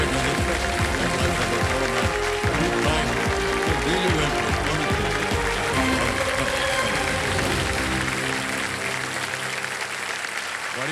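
A studio audience on a television quiz show applauds a departing contestant with loud, sustained clapping, backed by swelling music and faint talk.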